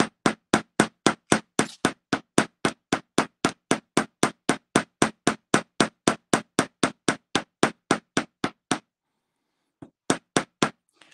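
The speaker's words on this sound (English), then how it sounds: "one thing that we're doing while we're hammering it is we're work hardening our piece" A metal pendant is struck repeatedly with a hammer on a steel bench block, giving a fast, even run of sharp, ringing blows that pauses briefly, then resumes with a few more strikes.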